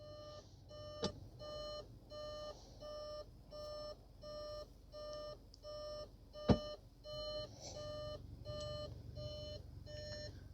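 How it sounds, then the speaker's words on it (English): A 2014 Volkswagen Tiguan 2.0 TSI, not shifted into park during a transmission service, sounds a steady repeating electronic warning beep, regular pulses roughly every half second, with a couple of sharp clicks in between and no talking. "The car is beeping at me, saying that it's not in park"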